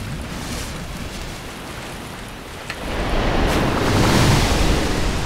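Water waves in the video game Dark Souls Remastered, a steady wash of surf with wind that grows louder and fuller partway through.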